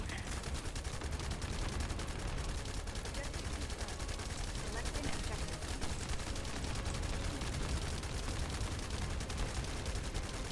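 Gunfire in The First Descendant video game during the Death Stalker boss fight, dense continuous rapid shooting and impacts, fairly quiet in the mix.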